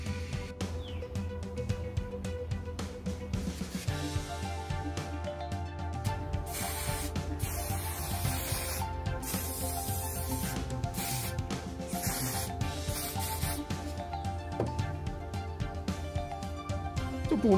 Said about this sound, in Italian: Ora passiamo al plastic spray.